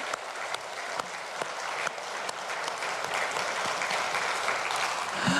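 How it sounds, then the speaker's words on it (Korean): A church congregation in Incheon claps together, starting with scattered sharp claps that build into steady, full applause lasting several seconds, heard at a moderate distance in a reverberant hall. "우리 한번 주님께 기대하며 영광의 박수를 드리십니다"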